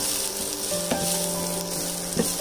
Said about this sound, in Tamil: ரெண்டு பச்சை மிளகாய் இது கூடவே கொஞ்சம் கருவேப்பிலையை நான் சேர்த்துக்கிறேன் எல்லாம் சேர்த்து இது நல்லா வதக்கி